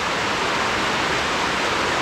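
A fierce rainstorm pours down in Hawaii as a dense, constant roaring hiss, loud and close, with no other sounds.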